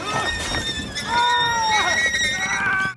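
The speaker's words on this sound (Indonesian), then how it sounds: "Tapi tiba-tiba suara pekikan binatang terdengar." A pig caught in a heavy fishing net lets out high, piercing squeals and shrieks in several bursts, loud and close, with a voice talking over them.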